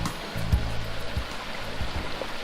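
Whitaker Creek flowing beside a campsite on the Oregon coast, a constant close rushing of water with a few soft low thumps, no talking.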